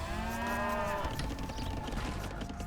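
A water buffalo or cow moos in Age of Empires 2: Definitive Edition, one long drawn-out low moo that fades into a busy game soundscape, with no talking.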